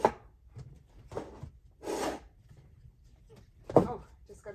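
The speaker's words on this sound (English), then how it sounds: "Oh, just got to pull the drawer out." A wooden drawer pulled out at a craft table, giving several short scraping, rubbing bursts of wood sliding against wood, close and fairly loud, separated by quiet gaps.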